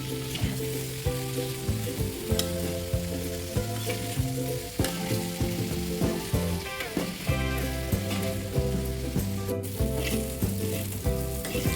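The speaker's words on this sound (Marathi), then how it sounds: "त्यानंतर पनीरवर हळद, लाल तिखट आणि अगदी थोडं मीठ घालायचं आहे आणि पनीरला फ्राय करून घ्यायचं आहे." Paneer cubes fry in oil with turmeric, red chili and a little salt, giving a steady, continuous sizzle over a background music bed for the whole stretch.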